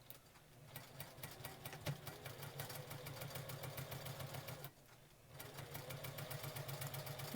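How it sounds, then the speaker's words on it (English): A sewing machine stitching quilting fabric triangles runs in a fast, steady, mechanical needle clatter, close and continuous, with a brief slowdown before it resumes at full speed. "then you can sew your triangles."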